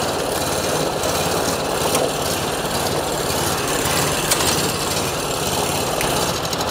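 Small engine of a walk-behind rice transplanter running steadily at close range, a constant loud mechanical drone with rattling, no talk.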